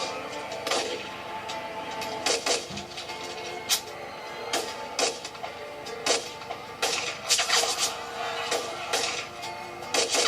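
Scattered sharp gunshots from a film scene crack out irregularly over a steady background, some in quick pairs, moderately loud and without clear talk over them.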